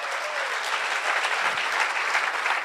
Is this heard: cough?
no